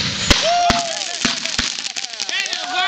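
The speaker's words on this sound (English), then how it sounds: "And the firecracker went off." Firecrackers pop in a microwave with aluminum foil, giving several sharp, loud bangs spaced unevenly, amid crackling and squealing sounds and excited voices talking.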